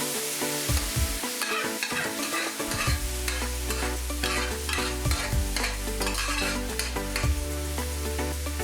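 Cooked pumpkin and beans being stirred into a coconut mixture in a pan for Kerala erissery, with steady scraping spoon strokes over a continuous sizzle, close and fairly loud, no talking.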